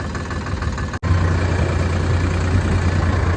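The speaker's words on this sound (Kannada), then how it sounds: "ಗಾಡಿ ಸ್ಟಾರ್ಟ್ ಆಯಿತು" A tractor fitted with a rotavator runs at a steady idle, its low, even engine rumble briefly cut for a moment before settling back into a continuous drone.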